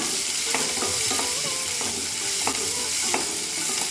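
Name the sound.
garlic and onion sautéing in a pan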